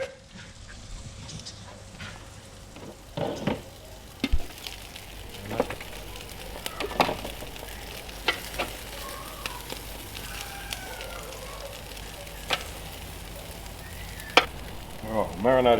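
Marinated chicken sizzling on a backyard barbecue plate, a soft continuous frying hiss broken by scattered scrapes and clinks, with a dog moving about nearby.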